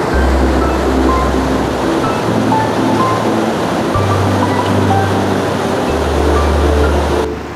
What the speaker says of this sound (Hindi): अब देखिए एकदम से पानी के बहाव में इजाफा हो गया